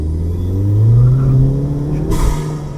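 A car engine with a newly installed loud aftermarket intake revs up, swelling to a deep roaring peak near the middle and then easing back to a steady, close rumble, heard alone.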